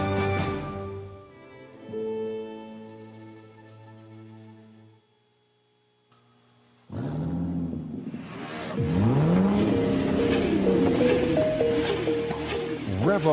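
A car engine revs and roars in a radio commercial for Puma Energy fuel, a loud rising rumble and whoosh following a softer musical stretch, with a brief near-silent gap before the engine bursts in.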